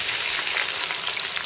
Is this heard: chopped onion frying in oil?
yes